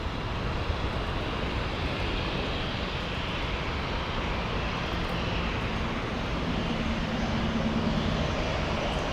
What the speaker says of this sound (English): That's an A320 and a big 777.